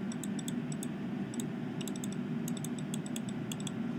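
Right arrow key on a computer keyboard tapped repeatedly, about a dozen light clicks in an uneven rhythm over a low steady hum.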